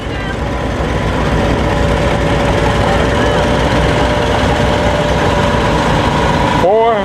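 A big John Deere inline engine, estimated around 160 horsepower, runs at a steady loud idle with a constant drone throughout, a tonal whine riding on top, and an abrupt change in the last half second.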